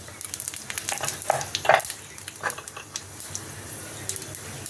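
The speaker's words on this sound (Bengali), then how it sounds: "এখন এই তেজপাতা আর শুকনো লঙ্কা আমি কড়াইতে দিলাম" Bay leaves and dried chillies dropped into hot oil in a wok, a soft crackling sizzle with irregular pops and a few utensil clinks, close and without talk.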